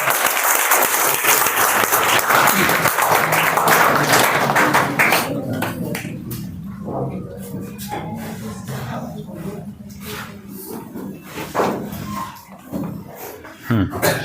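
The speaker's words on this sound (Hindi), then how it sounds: "ओके, तालियां" Loud group applause at a motivation seminar fills the opening seconds, thinning into scattered claps under someone talking, with a few sharp claps near the end.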